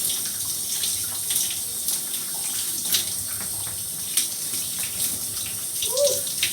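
Water runs continuously from a tap or shower while natural hair is being rinsed, a soft steady splash with scattered drips and light handling sounds, fairly close, with no talking.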